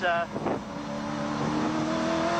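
A race car at the Bathurst circuit in 1984 drones loud and close, with a short dip and a climbing rev early on before it settles into a steady high engine note.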